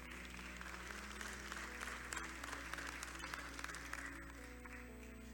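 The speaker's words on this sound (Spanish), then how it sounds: "vamos a dar un aplauso al Señor" Applause from a church congregation for the Lord, a steady crowd of hands clapping over a sustained organ or keyboard drone, continuing evenly throughout.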